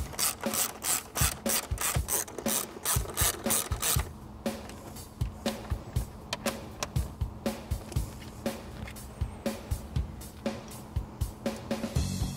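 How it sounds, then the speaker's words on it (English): A hand ratchet tightens the bolts holding the coolant reservoir tank back in place on a 2015 Mustang, giving a fast run of loud, close clicks and then a long, steady series of rhythmic rasping strokes. "Just bolt the tank back into place"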